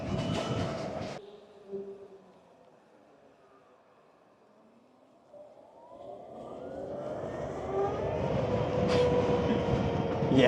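An electric Harley-Davidson motorcycle (LiveWire Alpha line) in street mode accelerates, its whine rising steadily in pitch and loudness after a quiet stretch that follows a short burst of noise.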